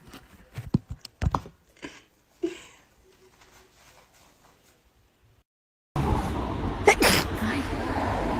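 A woman's sneeze during an allergy fit, a few sharp bursts in the first seconds, followed by quieter noises, then loud sustained noise from about six seconds.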